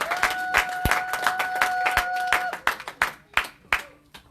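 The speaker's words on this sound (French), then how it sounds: "Applaudissons et asseyez-vous." A church congregation claps rhythmically and steadily, then the applause thins into a few scattered, louder claps before fading out.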